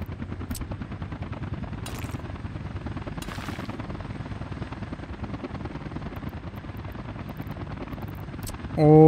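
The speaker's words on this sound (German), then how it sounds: "Diese Hubschrauber, nicht wahr?" Helicopters in the city-building game Workers & Resources, a steady droning rotor chop with rapid rhythmic pulsing that runs throughout, with a few brief sharp bursts early on and a louder swell at the very end.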